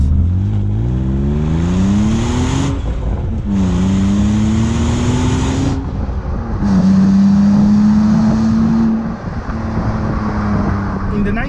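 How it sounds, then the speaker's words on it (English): A BMW Z3 coupé's six-cylinder engine revs loudly and repeatedly close by, climbing and falling in pitch through several throttle blips with short pauses between them, and no talk over it. "The sound of the engine, the 6-cylinder when seeing, it's really nice"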